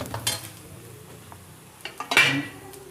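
Coriander powder and spices are stirred in a pan for egg curry, a couple of short scraping strokes and a light clink against the metal, close and brief, with no talk.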